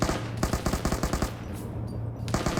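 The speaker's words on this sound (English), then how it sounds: "Auto cannon just suppressing corners." Rapid bursts of autocannon fire in a multiplayer shooter match, loud, heavy repeating thuds in several short volleys with brief gaps, with a quieter pause before a final burst.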